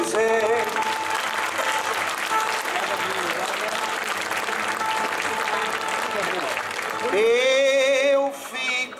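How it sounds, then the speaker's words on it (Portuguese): A warm, sustained round of applause fills the hall at a 2012 cantoria folk-singing event in Ponta Garça, with clapping holding steady for several seconds before a voice rises over it near the end. "pedir ao povo meu a salva de palmas mais bonita para o José"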